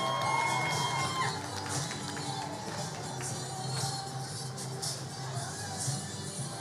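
Outdoor crowd at a Schenectady holiday parade in New York cheering and applauding a dance group, a steady broad wash of claps, whoops and children's shouts without pause.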